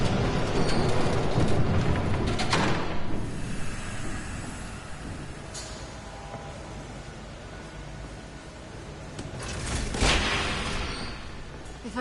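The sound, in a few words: train passing in Batman Telltale video game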